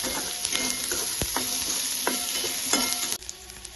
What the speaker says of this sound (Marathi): हे चांगलं फ्राय करून घ्यायचं आणि गॅस फास्टच ठेवायचा